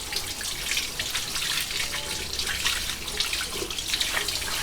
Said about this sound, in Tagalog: Ayan, ugasan natin.